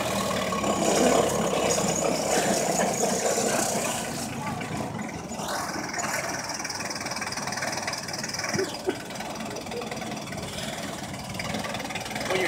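A forklift engine runs steadily as the truck drives back up a slope, a continuous mid-distance rumble with a brief rising whine partway through; no speech is heard over it.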